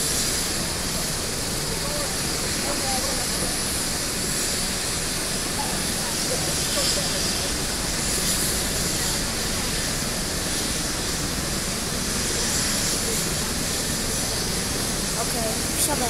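A loud, steady roar of a helicopter engine and rotor wash taking off at a gas explosion scene in Racibórz, Poland, fills the scene with a broad rushing hiss that holds nearly constant throughout.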